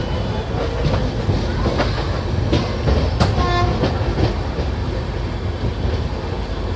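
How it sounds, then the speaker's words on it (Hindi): Train arriving at a Delhi railway station platform: loud rumbling wheels and clattering cars with squealing brakes and a brief tonal screech, continuous and close throughout. "किसी गाड़ी का अराइविंग हो रहा है, एक का डिपार्च हो रहेगा।"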